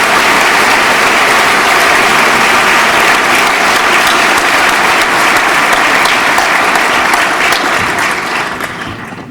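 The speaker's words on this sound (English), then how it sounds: "Now may I have a round of applause for this distinguished group." A large audience at a club luncheon gives a distinguished group a loud, dense round of applause that holds steady throughout and then tapers off at the close.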